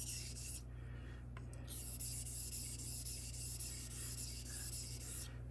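Kitchen knife edge, an Iwasaki blade, being honed on a whetstone with abrasive slurry: a steady, continuous close-up rubbing and scraping that runs without pause, no talking.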